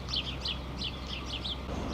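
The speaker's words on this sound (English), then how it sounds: "besides birds, which I hear all over the place" Small birds chirp outdoors near a cemetery in northern Norway, a run of about half a dozen quick, bright, repeated notes at moderate distance over low ambient noise.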